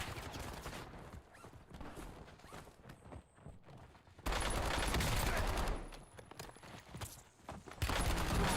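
Bursts of automatic gunfire in Call of Duty Warzone on Rebirth Island, with a quieter exchange of shots and then two loud, sustained volleys of rapid fire that come up close.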